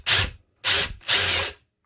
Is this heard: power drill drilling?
yes